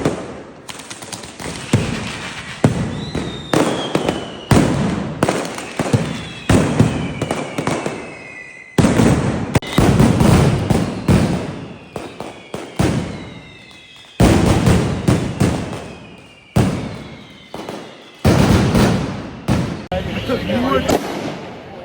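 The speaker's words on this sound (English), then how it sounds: "at 2 o'clock midday they are starting fireworks." Fireworks and firecrackers at Las Fallas in Valencia: a loud, dense barrage of sharp cracks and booming bursts with whistling rockets, near and relentless, with brief gaps between volleys and voices faintly underneath.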